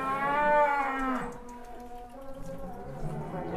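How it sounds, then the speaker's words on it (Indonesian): A giant sacrificial cow at an Indonesian cattle farm lets out a long, loud, close moo, followed by lower grunting and faint background voices. "Keren sekali sapinya"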